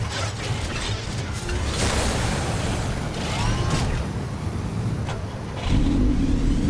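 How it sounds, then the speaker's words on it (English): Batmobile engine in the Batman Telltale video game, a steady loud car drone with revving swells and mechanical clatter, rising to a heavier rumble near the end, with no talking. "That's the Batmobile in disguise?"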